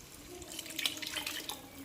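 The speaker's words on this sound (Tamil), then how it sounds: "குழம்புக்கு தேவையான அளவுக்கு தண்ணி சேர்த்துக்கலாம்." Water is poured into a pot of simple home-style chicken curry: a brief, soft, steady splashing trickle, close but quiet, with no talking.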